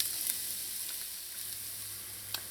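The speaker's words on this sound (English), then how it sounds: "To that oil, I'm going to go in with some finely chopped onions," Finely chopped onions hit hot oil and set off a steady, bright sizzle, close and constant, with a couple of faint pops and no talking.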